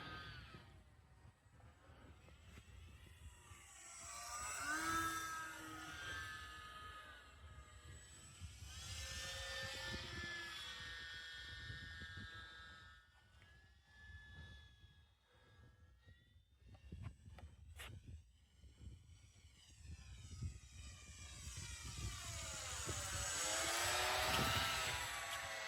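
A small UMX Beast 3D radio-controlled plane buzzes overhead in windy conditions, its electric motor whining up and down in pitch as it hovers and maneuvers, at moderate distance and fairly faint, with wind noise underneath.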